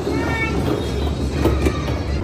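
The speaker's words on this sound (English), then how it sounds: "Nearly got run over by that train." A train rolls past close by on a street in Russia, a loud rumbling roar with rattling wheels and faint metallic squeals, steady and continuous without voices.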